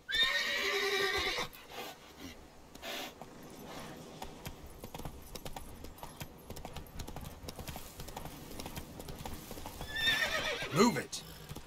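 A horse gallops in the video game The Witcher 3, with quick rhythmic hoofbeats on the ground and loud whinnies at the start and end, while someone speaks over it.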